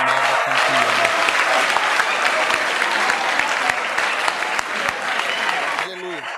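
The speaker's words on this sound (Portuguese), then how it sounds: "Bata palmas para você mesmo, você é uma mega campeã." An audience at a church gathering in Accra, Ghana claps for a young race champion, a loud, dense sustained wash of applause that fades out near the end as a voice comes in.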